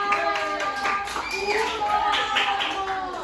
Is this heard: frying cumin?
no